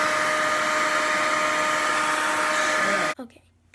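A hair dryer blows with a steady, loud whoosh at close range for about three seconds, then cuts off abruptly, leaving a quiet room.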